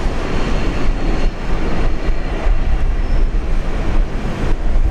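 A Qantas Airbus A330 jet departs Brisbane bound for Singapore, its broad, steady engine roar filling the scene at close range and holding a loud, even level throughout, with no talk over it.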